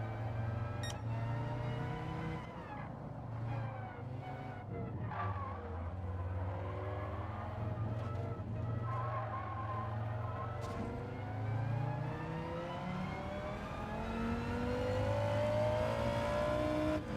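A race car engine in Gran Turismo 7 revs hard through repeated upshifts and downshifts, its pitch climbing and dropping over a sustained stretch, played back at moderate volume with no talking.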